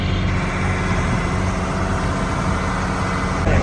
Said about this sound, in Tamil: எக்கச்சக்கமான போட் போயிட்டு இருக்கு.